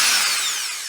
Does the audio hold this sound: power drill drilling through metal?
yes